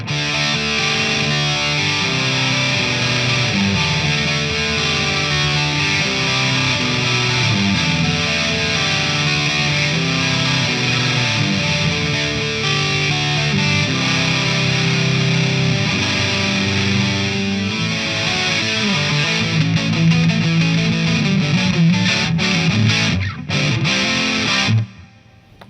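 Electric guitar is played through a Marshall DSL overdrive pedal set for dense distortion with chorus added, producing a thick, sustained, loud wall of driven chords that runs continuously and ends abruptly, with no voices.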